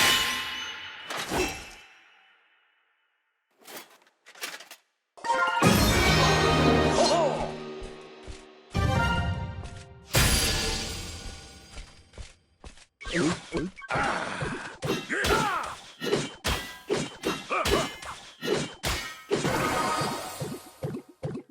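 Hero Knight effects from the mobile game Clash Royale: a series of metallic clangs, crashes, whooshes and heavy impacts with short gaps, some vocal grunts, ending in rapid bursts of hits.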